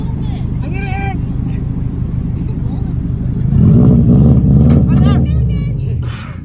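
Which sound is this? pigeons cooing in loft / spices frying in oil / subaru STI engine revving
subaru STI engine revving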